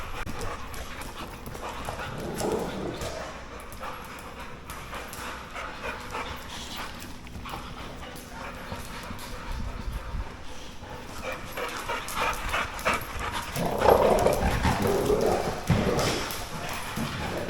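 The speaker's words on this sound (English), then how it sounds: "sometimes people misread when dogs are playing, and they think that that growling always means that there's a problem" Dogs growling and panting as they play during a training session, a continuous rough, busy texture with scuffling and occasional whimpers, close and steady throughout with a louder burst near the end.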